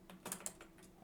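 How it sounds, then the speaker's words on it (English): Quick bursts of keystrokes on a computer keyboard, several close, crisp clicks in an uneven rhythm over a quiet room, with no talking. "I really need to buy a new keyboard, this is ridiculous."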